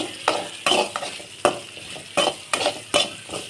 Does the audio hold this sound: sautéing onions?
yes